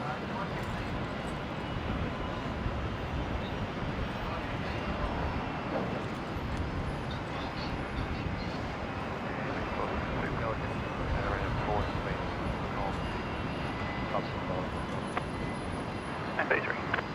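An aircraft takes off from runway 19 right at Brisbane International Airport, a broad, continuous engine roar heard at a distance and fairly faint, with radio voices and talk over it.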